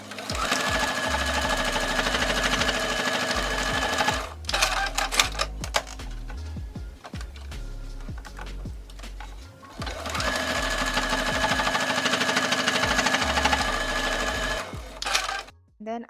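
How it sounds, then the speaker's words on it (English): A sewing machine runs in fast, rattling bursts as it stitches the fabric headband of a reversible bucket hat. Two long runs are split by a pause with handling clicks, and a voice talks over the sewing. "I'm just going to sew it right here. I match that right sides of the fabrics, and this is the headband."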